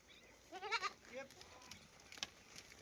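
A goat bleats on a village farm in Punjab. One quavering bleat is followed by a shorter second call, both faint against quiet rural background noise.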